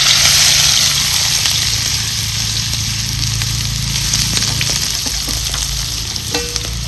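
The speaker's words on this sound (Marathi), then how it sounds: "तेल लगेच गरम झालं आणि जिरं सुद्धा चांगलं उमललेलं आहे आता यात टाकायचा आपल्याला कांदा" Onion frying in hot oil with cumin makes a loud, steady, close-up sizzle that runs without a break, with a low hum beneath it and a few small clicks near the end.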